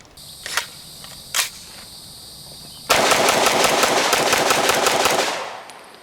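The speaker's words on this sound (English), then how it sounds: "it's a cool little compact, fun gun to shoot" CZ EVO 3 S2 Micro Scorpion 9mm firing 115 grain full metal jacket rounds at a range: two loud single shots, then a sustained rapid burst of about two and a half seconds that fades out.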